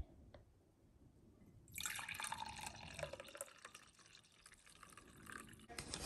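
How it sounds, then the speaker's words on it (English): Coffee poured from a press coffee maker into a cup: a steady liquid stream with light splashing runs for several seconds after a quiet start, close by and moderately loud, with no talking. "Push that down and pour me a cup and we'll see what this tastes like."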